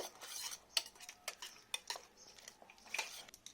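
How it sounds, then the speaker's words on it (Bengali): A hand stick whisk beats eggs in a bowl for a soybean egg recipe, giving quiet, irregular clinks and clicks of metal against the bowl, close and faint. "আমি হ্যান্ডস্টিক দিয়ে ভালো করে একদম ফেটে নিয়েছি, কোনো দানা দানা কিছু নেই"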